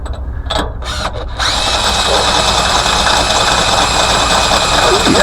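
After a few brief knocks, a drill bit bores into material with a loud, steady motorized whine that holds evenly to the end, close and unbroken.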